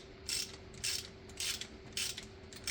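A ratchet loosening the thermostat bolt on a Mercedes-Benz GLK350 with an M272 engine, five quick, evenly spaced clicking strokes heard up close over a low steady hum.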